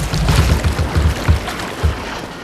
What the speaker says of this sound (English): the entire boat is just sinking.